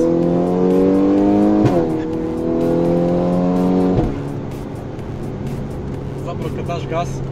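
A Volkswagen Golf 6R tuned past 400 hp accelerates hard, its engine note climbing in steady rising harmonics broken by two sharp gear changes, loud and close from inside the cabin with talking over it.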